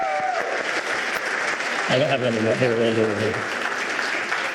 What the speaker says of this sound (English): Somebody give a round of applause.